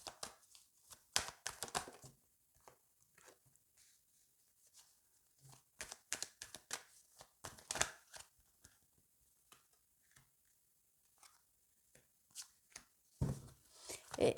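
Tarot cards are shuffled and laid out in short, irregular bursts of crisp rustling and slaps, close by and alone, with quiet gaps between.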